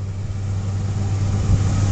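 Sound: Ford F-150 truck engine idling

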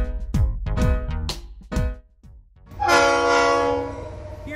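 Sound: train with horn

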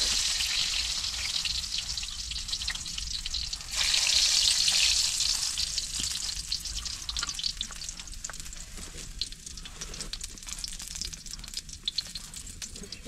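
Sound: garlic frying in oil

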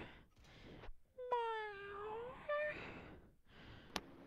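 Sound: person imitating a cat meow

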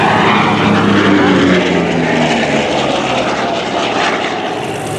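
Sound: Vought F4U Corsair propeller aircraft flying at air show

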